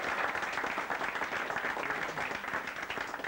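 Audience applause at a 1997 Lille LOSC football club reception, a steady dense patter of many hands clapping throughout, fairly close and sustained with no talk over it.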